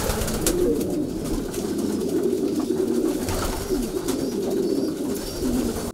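Mid-sized racing pigeons in a loft coo continuously in overlapping low calls, a dense flock murmur close by with occasional sharper clicks, no speech.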